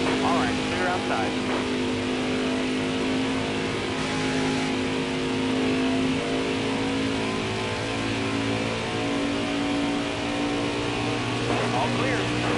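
NASCAR stock cars, including Tyler Reddick's number 8, roar around the track late in stage 2 with a steady, dense engine drone under continuous radio chatter from a spotter.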